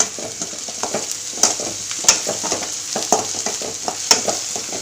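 Tomatoes stirred into sizzling chicken gravy with curry leaves in a hot pan, giving a steady frying hiss broken by repeated scraping stirs and sharp clinks of a spoon against the vessel.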